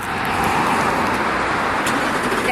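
A 2024 Ford Mustang GT starting up by remote start, a steady, loud broadband engine roar holding evenly throughout with no break or pause.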